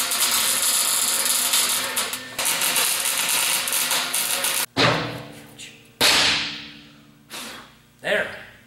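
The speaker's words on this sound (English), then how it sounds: "I'm gonna weld the head solid here on the inside." Steel is welded on the head of a homemade mine cart: a steady, loud crackling hiss runs for several seconds, then stops and gives way to a few sharp metallic clanks that ring and decay.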